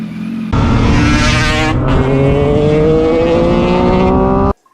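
A 1985 Yamaha RZ350 two-stroke motorcycle with a TZR250 front end revs steadily while being ridden, a loud, close, continuous engine drone with rising harmonic pitch and a brief dip before cutting off abruptly.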